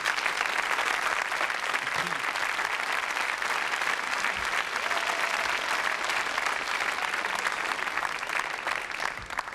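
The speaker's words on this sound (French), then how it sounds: "J'aimerais quand même qu'on l'applaudisse, cette personne, si vous voulez bien, pour lui rendre un vibrant hommage." Dense, sustained applause from a French television variety show studio audience, offered as a tribute, holding at an even loud level for the whole stretch with no break.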